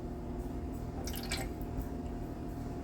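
Water is poured into a baking dish of sauce, a short wet burst of splashing and dripping over a steady low background hum.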